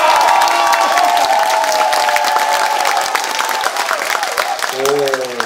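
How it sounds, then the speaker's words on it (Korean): Studio audience at a live public broadcast of a Korean talk show, clapping loudly and steadily with some cheering, before a voice comes in near the end. "박수 소리가 좋아요."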